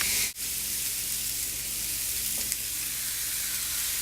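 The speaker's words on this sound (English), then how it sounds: "We're going to lay our meat down on the grill." A steak lies on a very hot, smoking grill and sizzles in a loud, continuous, close hiss. The frying holds unbroken apart from one brief dip near the start, with no talking.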